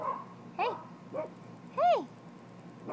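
A dog gives a few short, high yipping barks with pauses between them, close by over a quiet background hum.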